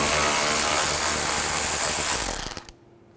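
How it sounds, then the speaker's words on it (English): A ratchet or driver with a T25 socket backs out a headlight screw on a 2006-10 Volkswagen Jetta, giving a steady, close mechanical whirr with rapid clicking for about two and a half seconds before stopping abruptly. "Use a T25 socket,"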